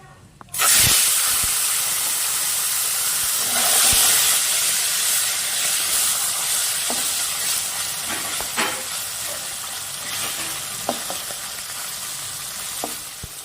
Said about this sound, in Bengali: তেলটা আমার গরম হয়ে গেছে, এখন মাছগুলো সব ভেজে নেব।